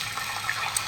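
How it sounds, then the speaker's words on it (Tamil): Oil and cracked eggs hit a hot griddle making kothu parotta, a brief close wash of sizzling and splashing liquid noise lasting under a second. "கொஞ்சமாக ஆயில் ஊற்றிட்டு முட்டையை தாராளமாக உடச்சி ஊற்றலாம்"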